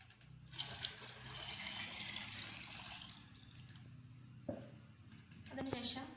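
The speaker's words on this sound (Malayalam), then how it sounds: "വെള്ളം ഉപയോഗിച്ച് നിറപ്പിക്കേണ്ടതുണ്ട്" Water pours and splashes steadily into a container of strained tobacco mixture, with a brief clatter partway through and a short burst of running water near the end.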